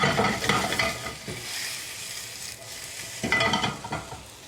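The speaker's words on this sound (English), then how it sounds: "the sausage is sizzling" Sausages sizzle steadily in a frying pan, with bursts of stirring and scraping as they are moved around, close and fairly loud.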